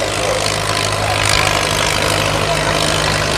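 A Super M tractor with a small exhaust pipe runs steadily at a county fair truck and tractor pull, its loud, even engine drone filling the air without letup and with no clear talk over it.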